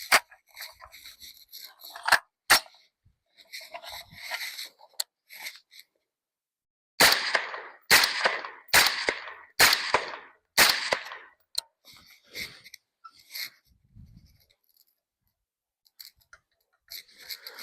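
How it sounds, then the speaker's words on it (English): Suppressed rifle shots through a Deadair Sandman X suppressor with the gas set wide open: a cluster of faint clicks, then about six sharp, fairly close reports in quick succession, followed by quieter handling noises. "we're going to go ahead and shoot a few rounds wide open"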